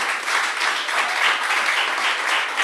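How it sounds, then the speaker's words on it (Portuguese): A church congregation claps together in sustained, dense applause filling the room, a steady wash of many hands with no pause throughout. "Dê uma salva de palmas bem forte para Jesus."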